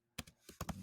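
Brief, close typing on a computer keyboard: a few quick, quiet key clicks in an irregular burst, with no talking.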